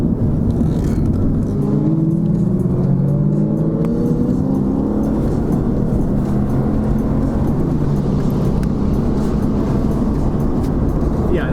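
4-cylinder car on a mountain canyon road with the air conditioning running, heard from inside the cabin. A steady, loud engine drone and road rumble continue throughout, with the engine note rising and falling gently.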